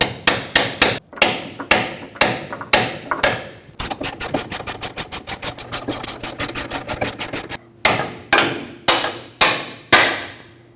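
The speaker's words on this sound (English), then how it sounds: "tap it through with a hammer." A hammer strikes a bolt into the track bar of a 2011-2016 Ford F-350: loud, close metallic taps in steady repeating blows, a fast rapid-fire run in the middle, then slower single hits.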